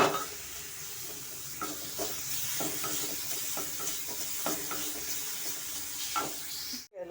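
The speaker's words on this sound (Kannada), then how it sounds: "ಅದನ್ನು ಸ್ವಲ್ಪ ನಾವು ಎಣ್ಣೆಯಲ್ಲಿ ಚೆನ್ನಾಗಿ ಫ್ರೈ ಮಾಡ್ಕೊಳ್ಳೋಣ ಗೋಡಂಬಿ" Cashews frying in oil in a pan, a steady close sizzle broken by regular scraping stirs of a spoon, ending with an abrupt clatter, no voices.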